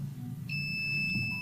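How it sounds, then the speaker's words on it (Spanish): Electronic water level alarm on a robotics lab prototype sounds a steady, high-pitched tone, quickly joined by a second pitch, holding as one continuous beep over faint room noise. "se activa una alarma, indicando a quienes se encuentren dentro de la vivienda o a los alrededores que es necesario evacuar"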